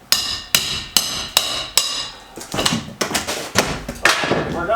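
Ceiling layer being torn down during a house renovation: a run of loud, sharp hammer-like impacts and thuds, roughly two per second at first, then denser crashing and clattering of falling debris up close.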